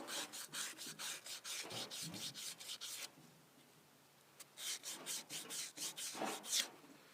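Sandpaper scrubs rust off a rear axle wheel hub in quick back-and-forth strokes, a close, rhythmic raspy scraping that stops for about a second and a half, then resumes.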